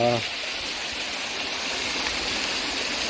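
A waterfall on a mountain stream in a valley on Munboksan in the Yeongnam Alps roars as a steady, broad rush of water. A short burst of voice sounds at the very start.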